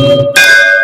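A temple bell rings out loud and close with a single bright metallic strike, its clear tones hanging and sustaining after the hit.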